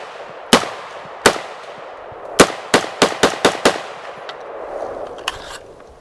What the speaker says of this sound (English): I'm going to shoot this quickly